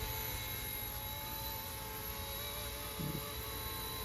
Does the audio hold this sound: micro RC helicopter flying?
yes